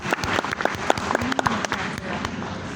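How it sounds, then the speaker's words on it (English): An audience applauds a glassblowing transfer during a live demonstration at a glass museum, a short burst of dense, close clapping with a few sharper individual claps standing out and a little background voice. "Let's give you a nice round of applause for that very nice transfer"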